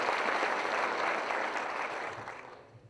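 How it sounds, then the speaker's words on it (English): Audience applause at a Veterans Day ceremony for county employees who served in the military, a short burst of steady clapping that fades out toward the end. "And you please give yourselves a round of applause and get it from us too."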